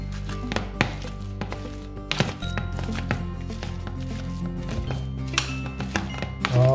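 Boiled potatoes with smoked paprika and black pepper being mashed for shepherd's pie, irregular soft thumps and knocks against the bowl over steady background music.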